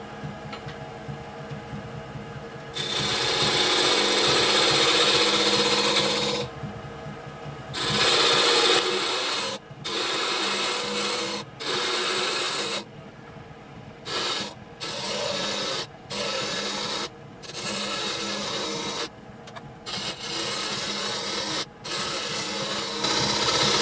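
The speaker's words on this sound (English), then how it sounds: "I'm going to get in here with a detailing chisel, and I'm going to very gently slope this down from the top" A detailing chisel shapes wood for a spinning top in a run of rasping, scraping strokes that start and stop repeatedly, close and fairly loud, with short pauses between strokes.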